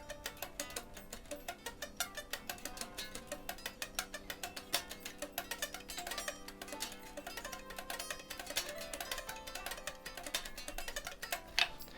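Fast, heavily palm-muted guitar arpeggios played with the hand resting on the bridge, a dense run of short, clipped plucked notes in a steady rhythm, close and moderately loud with no voices.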